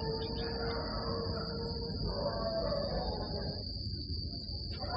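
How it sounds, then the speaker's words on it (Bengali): Crickets chirp at night in a steady, continuous high-pitched drone that holds at a moderate level throughout, with a low background rumble beneath and no talking. "শুধু রাতের ঝিঝি পোকার ডাক আর কুকুরের ডাক তাকে যেন ভাবিয়ে তুলছে।"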